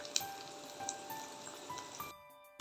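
Corn and sweet potato cutlets frying in oil until golden, giving a soft, crackly sizzle with scattered pops, fairly quiet, that cuts off sharply near the end.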